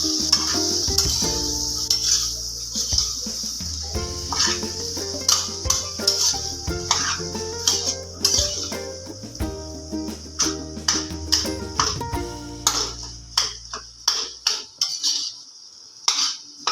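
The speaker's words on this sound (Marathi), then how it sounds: "समोश्याची भाजी छानपैकी मस्त गरम करून घेतली।" Pea and potato samosa filling stirred and heated in a pan, with steady sizzling and frequent metallic scrapes and clinks of a spoon against the pan, close and continuous.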